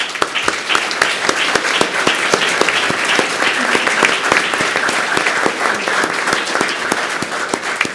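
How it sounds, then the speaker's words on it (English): Sustained clapping from a large audience at a school board meeting, dense and steady for the whole stretch, with no talking over it. "let's recognize them with a big round of applause."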